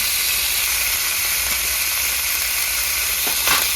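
Fish (chara pona, small carp) frying in hot oil with salt and turmeric, a steady broadband sizzle and hiss throughout with a brief louder spatter near the end, close and alone without voices.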